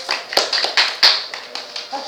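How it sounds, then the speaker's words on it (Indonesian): A classroom applauding a student after her answer, a few scattered claps and taps rather than a full ovation, fairly near and uneven. "Tepuk tangan semuanya untuk Dira"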